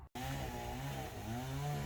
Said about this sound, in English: Neighbor's using a weed whacker.